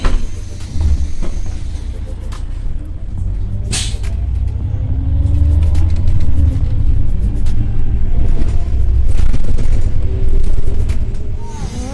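Inside a moving bus in France: a steady low engine rumble and road drone with occasional rattles and clunks, loud and close, and faint voices in the background.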